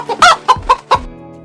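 A hen clucks in a short burst of about five sharp, close calls, each a quick nasal cluck, followed by a brief softer tail.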